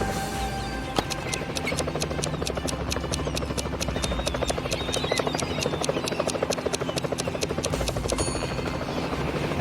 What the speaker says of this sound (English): Today, Steve's flying in a helicopter over the pool to check the situation.